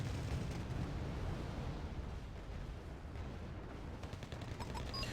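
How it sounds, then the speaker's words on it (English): Airstrike explosions rumble through a Wargame Red Dragon battle, a dense, continuous low roar of blasts and distant gunfire lasting throughout, with no clear gaps between impacts. "And now we're receiving the airstrikes."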